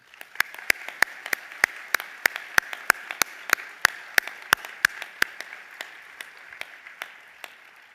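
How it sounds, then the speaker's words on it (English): Applause at a PhD hooding ceremony, a steady patter of clapping with a few crisp, regular claps close by punctuating the quieter spread of the crowd, fading slightly toward the end. "Give yourselves, and let everyone else give you a round of applause."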